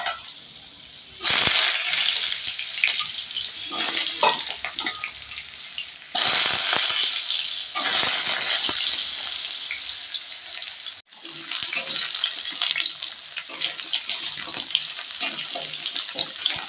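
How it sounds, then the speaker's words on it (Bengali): Potatoes fry in hot oil with a dried red chilli and a green chilli, a loud, close, continuous sizzle broken by stirring and brief pauses. "আলুগুলো হালকা ভাজা ভাজা হয়ে গিয়েছে"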